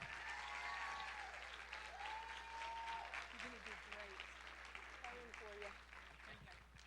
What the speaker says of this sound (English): Y'all give her a hand.